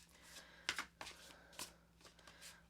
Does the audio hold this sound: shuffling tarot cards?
yes